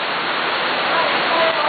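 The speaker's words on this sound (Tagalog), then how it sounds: "umuulan po dito sa Saudi mga kaibigan" Rain pours in Jeddah, Saudi Arabia, a dense, steady hiss of falling water close by, loud and unbroken for the short stretch.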